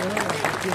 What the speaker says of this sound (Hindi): एक बार तो उसके लिए ताली बजाते हैं।